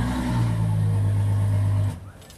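Boat engine cranked and started with the ignition key after the blower is switched on, a loud steady low engine drone with a strong hum that holds for nearly two seconds, then cuts out and drops to quiet.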